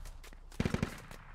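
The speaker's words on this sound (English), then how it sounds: "Shots coming in on this Dishka tech and the technical." Machine gun fire striking a DShK-armed technical in the military shooter Squad: a tight burst of four sharp impacts mid-clip, fairly close, over low background rumble.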